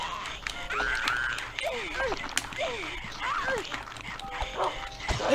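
A dog in the survival-horror game Rule of Rose gives several sharp barks and whining yelps amid clattering game noise, with a person talking over parts of it.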